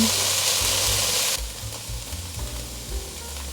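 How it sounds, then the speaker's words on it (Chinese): Tofu pan-frying in oil with a steady, loud sizzle; the bright hiss drops to a quieter frying crackle midway as it settles, with low stirring and pan movements underneath. "现在可以让它铺平均，让豆腐煎一煎"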